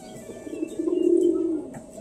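A pet pigeon of the biscuit colour variety coos once in a soft, low, rolling call that swells and fades over about a second, close by against a quiet background.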